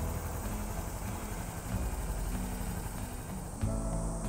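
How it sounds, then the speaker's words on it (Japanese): Honda Cross Cub motorcycle engine idling, a steady, fairly faint low putter that runs continuously with a slight bump near the end. "アイドリング状態でこんな感じですかね。"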